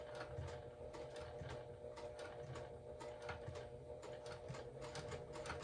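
A sewing machine stitches slowly through a wristlet clutch's card slots, giving a soft, steady run of quick mechanical ticks and taps, close but quiet.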